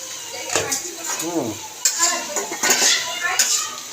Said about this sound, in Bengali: আলু দিয়ে ভালো করে কষায়া নিতেছি, একটু লাড়া দিয়ে দিই।